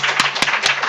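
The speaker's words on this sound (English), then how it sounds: "let's give him a round of applause." Applause from a congregation at a spiritual living center service, heard as a short burst of close, fairly loud clapping with a few sharp individual claps standing out.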